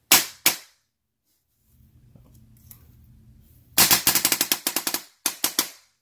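Polarstar airsoft nail gun firing: two sharp single pops, a quiet mechanical hum, then a rapid burst of loud snapping shots followed by a shorter burst, close and crisp.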